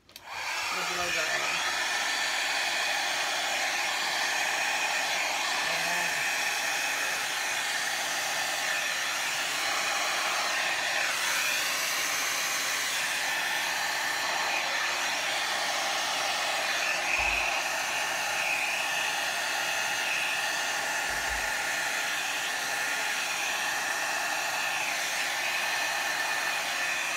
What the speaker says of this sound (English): let's try the blow dryer